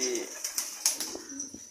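A pigeon coos in short bursts over a steady high hiss, with a few soft flutters and rustles nearby.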